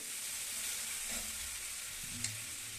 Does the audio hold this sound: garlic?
yes